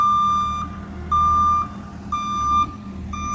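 A digger working on a driveway extension sounds its reversing alarm, a loud, close, evenly spaced series of high electronic beeps, each about half a second long, over a low engine rumble.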